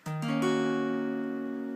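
A single acoustic guitar chord, its strings struck in quick succession, then left ringing and slowly fading.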